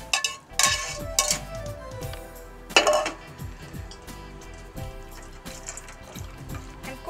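Metallic clanks of a pot and lid as boiled elbow pasta is strained, alongside splashing and pouring water, with a few sharp clinks scattered through.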